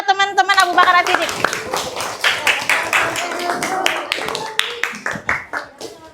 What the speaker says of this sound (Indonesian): Silakan tepuk tangan buat teman-teman Abu Bakar As-Siddiq.